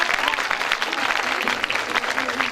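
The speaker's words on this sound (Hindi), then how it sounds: "आपकी भरपूर तालियों में आरफ लोहार।" An audience at a school annual program claps loudly and continuously, a dense, even wash of applause that fills the whole stretch.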